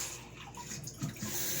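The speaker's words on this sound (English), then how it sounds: "Half cup going in." Half a cup of water pours into pecan pancake mix, making a soft, brief splashing trickle at low volume with no talking.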